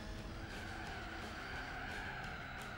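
A Mitsubishi Colt rally car in Gran Turismo 4 drives on a Tahiti maze rally stage, with a steady engine drone and continuous tyre skidding throughout, loud and unbroken.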